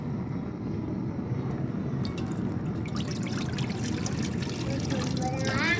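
Water poured into hot cooking oil in a pan while making sweet vermicelli, a steady loud rushing pour with hissing spatter building toward the end.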